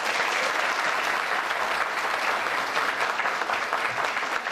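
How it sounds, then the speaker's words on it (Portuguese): Sustained round of applause from a crowd at an environmental guards' graduation ceremony, dense and steady clapping filling the whole stretch at close, loud level with no break. "a quem eu peço uma salva de palmas"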